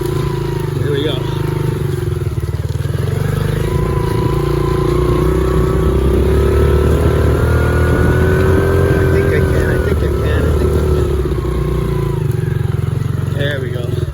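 Honda CRF70 dirt bike climbing a steep trail hill in first gear, small engine droning loudly and steadily with rising and falling pitch as it strains uphill, close throughout with some speech underneath.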